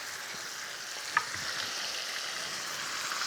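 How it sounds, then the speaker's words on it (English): Steady, dense sizzling of chicken frying in a pan with dark soy sauce, with a brief clink of a utensil partway through. "Sizzling."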